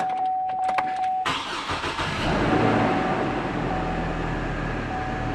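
A Chevy Colorado pickup truck engine with 217,000 miles cranks briefly over a steady tone, then catches and settles into a rough, steady idle close by.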